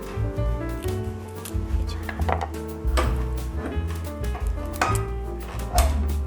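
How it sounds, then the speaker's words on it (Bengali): A knife cutting through cauliflower for pakora, repeated crisp chopping strokes against a board, close and fairly loud, with background music running underneath. "প্রথমে আমরা ফুলকপিটাকে কেটে নিচ্ছি।"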